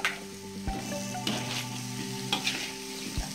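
Tempe and salted squid stir-fried with sweet soy sauce sizzle steadily in a pan, with several sharp scrapes and clanks of a spatula stirring at irregular intervals, close up and with no talk.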